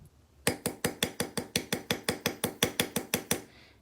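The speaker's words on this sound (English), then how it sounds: "using my multifunction hammer" A multifunction hammer strikes metal stamps around a metal disc, landing about fifteen sharp, evenly spaced blows in a quick steady rhythm, each one loud and close with a short ringing tail.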